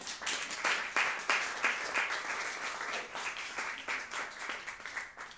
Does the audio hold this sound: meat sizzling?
no